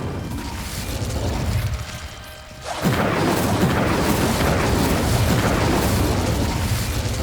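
A fire spell in Hogwarts Legacy erupts with a sudden whooshing burst, then a loud, steady roar of flame that carries on unbroken, close and dominant.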